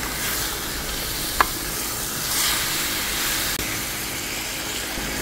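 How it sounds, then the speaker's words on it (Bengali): Pre-fried cauliflower is stirred into a spice paste in a pan, giving a steady, moderate sizzle with one sharp tap of a utensil against the pan and some soft stirring. "দিয়ে দিচ্ছি ভেজে রাখা ফুলকপি। আবারও 2 থেকে 3 মিনিট কষিয়ে নেব।"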